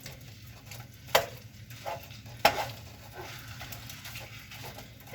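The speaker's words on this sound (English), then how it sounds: "when you have fried it until it's a little bit brown" Ground lamb with a little garlic fries in a pan and gives off a soft, continuous sizzle. Two sharp clicks of a utensil on the pan break through the faint, close sizzle.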